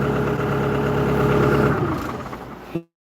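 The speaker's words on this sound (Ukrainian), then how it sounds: "Я запустив половину оцих засніжених тракторів в мінус 7." Snow-covered tractors, among them a LOVOL 504, run their diesel engines after a cold start at minus seven degrees, giving a steady loud idle that trails off and cuts out near the end.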